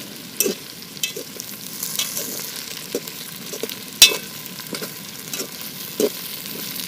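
Potatoes with meat fry in a pan outdoors on a riverbank, a soft steady sizzle broken by occasional stirring scrapes and clinks, quiet and close, with no voices.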